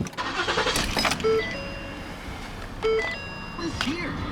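A 2014 Ford Explorer Police Interceptor with 153,000 miles cranks and fires up nearby, two short bursts of starter and engine noise accompanied by electronic dashboard chime tones, with some background voices.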